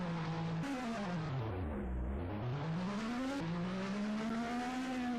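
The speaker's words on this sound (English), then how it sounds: "See him trying to do burnouts, but" A car attempting burnouts at the Hockenheimring, its engine revving up and down in long sweeping pitch changes with some tire noise, loud and continuous with no talk.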